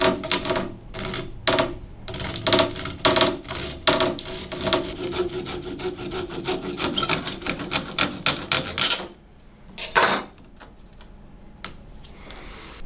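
A saw cutting a door sweep for a semi-frameless shower door, heard as a close, rapid series of sharp rasping strokes that settle into quieter scraping, followed by one last loud stroke.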